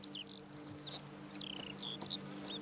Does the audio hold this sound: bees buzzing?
yes